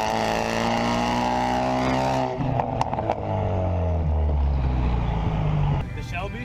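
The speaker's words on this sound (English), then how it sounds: "this car has no mufflers, no cats on the downpipe." A loud, raw Ford Mustang engine with no mufflers and no catalytic converters on the downpipe roars and revs, shifting pitch as it accelerates, with voices heard under the engine noise.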